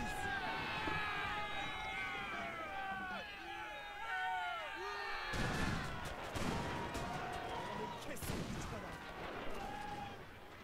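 Cannon and rifle fire crack across a battle in a historical strategy video game set in the Mahdist Rebellion at the Battle of Gaza, sharp shots breaking over a loud crowd-like din of distant fighting.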